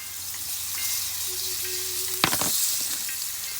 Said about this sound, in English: So now that we have the onion and the ginger in there, we'll let them caramelize a little bit